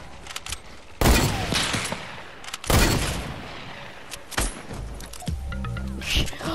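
Gunfire in the video game Fortnite: two loud sharp bursts of shots about two seconds apart, followed by scattered lighter shots and game effects, with a player's voice now and then.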